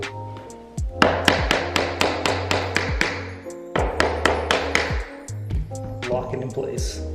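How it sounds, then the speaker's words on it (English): A quick series of sharp taps from a 12-ounce hammer knocking a laminate floor plank into place, close by, in two bursts with a brief pause between and a few lighter knocks at the end. "then your 12-ounce hammer or any hammer, like so."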